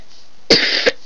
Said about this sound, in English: I have a bad cough today